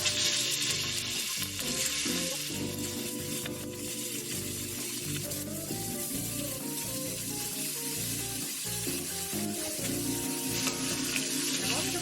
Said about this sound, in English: There's that nice sizzle.